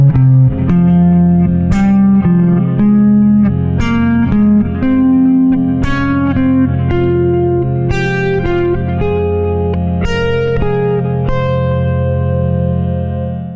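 Electric guitar phrase played across the strings, a run of sustained, effected notes falling then ascending to a final resolving note, loud and close with no talking.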